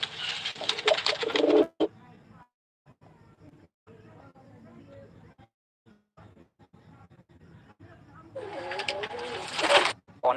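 Rajshahi Girabaz pigeons coo close by in a burst at the start and another near the end, with quieter human talk in between.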